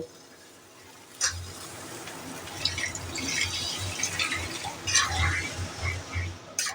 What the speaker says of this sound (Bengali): এবার এটাতে আমি জল দিয়ে দেব